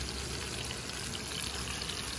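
Batter pouring and splattering into a pan while cooking a sweet zucchini dish, a steady wet trickling pour heard close up and alone for about two seconds.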